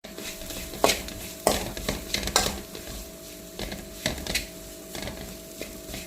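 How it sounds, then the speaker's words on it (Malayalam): A crushed coconut mixture with mustard seeds, fenugreek and curry leaves is stirred in a pan for goat head thoran. Uneven spoon scrapes and knocks repeat over a soft, continuous sizzle, close and without speech. "ഇനി ചതച്ച് വെച്ച തേങ്ങ എല്ലാം കൂടി ചേർന്ന മിശ്രിതം ഇതിലേക്ക് ചേർത്ത് ഒന്ന് മിക്സ് ചെയ്തെടുക്കാം"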